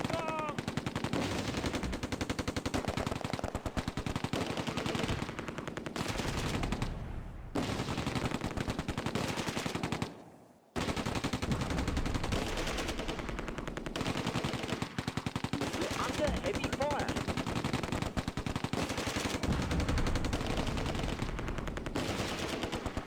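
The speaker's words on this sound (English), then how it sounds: "Intense fire in both directions." Relentless machine-gun fire and rifle shots in the WWII strategy game Close Combat: A Bridge Too Far at Oosterbeek, a loud continuous crackle of automatic bursts, broken only by a brief dropout halfway through.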